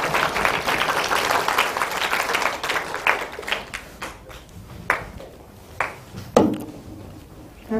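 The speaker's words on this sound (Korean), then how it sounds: "박수로 맞이하겠습니다." Audience of students in a school hall applauding to welcome an orthopedic doctor for a special lecture, a dense, steady round of clapping that thins out into a few scattered claps toward the end.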